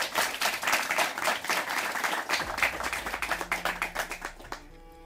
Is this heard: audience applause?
yes